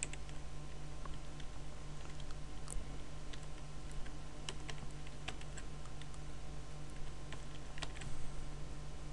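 Keys on a computer keyboard click softly and irregularly as a username is entered, faint scattered taps over a low steady room hum, with no talking.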